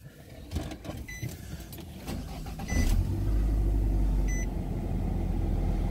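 A Nissan Altima with a clogged catalytic converter starts with a brief crank, then settles into a steady, fairly loud idle hum close by.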